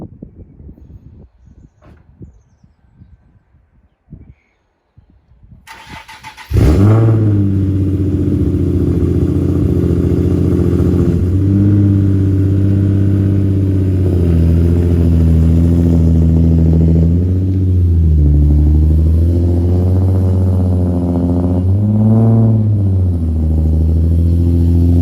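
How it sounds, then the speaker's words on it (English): After a few seconds of quiet shuffling, a car engine starts up close by and settles into a loud, steady running drone with occasional revs while cars are moved around. "Before we start, we just need to move the cars around."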